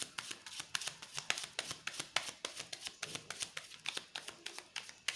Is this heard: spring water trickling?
no